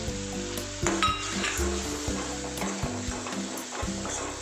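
Spices tipped into hot oil for an aloo tamatar sabzi sizzle and crackle steadily up close, with a few utensil clinks and stirring scrapes over the frying.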